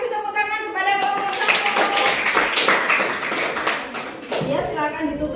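A classroom group receives a short round of applause, many hands clapping together for about four seconds before it fades out.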